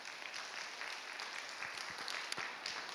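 A church congregation at a Friday night worship service breaks into steady applause, with dense, even clapping that sounds distant and fairly faint throughout, with no talk over it.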